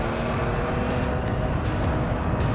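A race car corners hard on a track, its engine a loud, steady roar held throughout with no voices.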